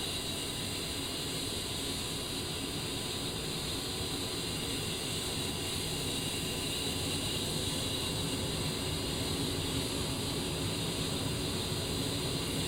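Jet engine of an A-10C running after spool-up in a flight simulator game, a continuous loud roar and high-pitched whine that stays even from start to finish, alone without voices.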